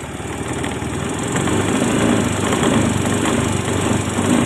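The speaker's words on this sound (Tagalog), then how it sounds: "Yung pagkakalansing sa kanyang head" Yamaha Mio i 125 scooter engine revving at high RPM with a cylinder head rattle, a steady loud buzzing drone with fast rapid ticking throughout, close up.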